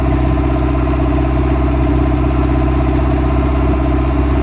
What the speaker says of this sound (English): Yeah, I know it's idling too high.